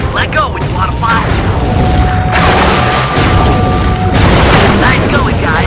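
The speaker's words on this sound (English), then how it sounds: "Murray Rose and Sly man the cannon." A cannon fires in the PS3 game Sly 3: Honor Among Thieves aboard a ship, heavy booms and rumbling blasts filling the whole stretch, loud and close, layered with game sound effects.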